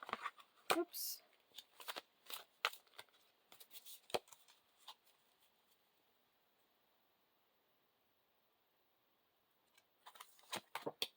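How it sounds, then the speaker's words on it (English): Oracle activation cards being shuffled by hand, a quick run of soft, papery riffles and taps, then a stretch of near silence before a brief second burst of card noise, close and quiet. "We'll pull an activation, a couple activation cards for you."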